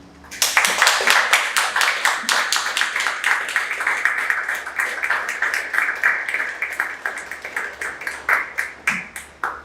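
Applause from an audience after a poetry reading: many hands clapping steadily and fairly close, sustained for several seconds and tapering off near the end.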